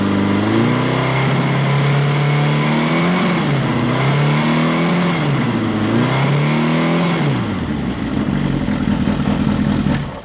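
A Honda CB DOHC motorcycle engine revs repeatedly from idle, its loud, close exhaust note rising and falling in several swells before settling back, with no talking over it.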